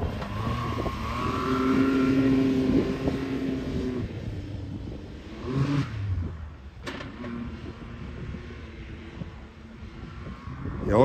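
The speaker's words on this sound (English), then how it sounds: "The old Can-Am clunks, eh?" An old Can-Am vehicle engine idles and clunks nearby, a rough low rumble with uneven knocks and a couple of sharp mechanical clanks, with faint voices in the background.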